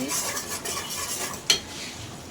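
Beef head meat and skin being stirred with spices in a pan, a spoon scraping softly in a steady, close rhythm with one sharper clink of metal partway through.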